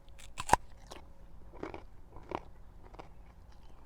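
Raw, freshly harvested kohlrabi is bitten into, giving a sharp crisp crunch followed by several softer close-up crunches and chewing sounds.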